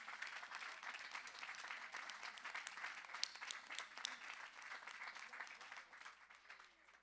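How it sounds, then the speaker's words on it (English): An audience at a high school graduation ceremony applauds, sustained, moderately distant clapping holding steady and slightly fading toward the end, with faint voices mixed in. "A round of applause to them."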